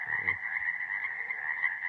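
A person voices a frog's croak, imitating it with a steady, continuous nasal ribbit-like drone that carries evenly through the whole moment at close range, with no other talk.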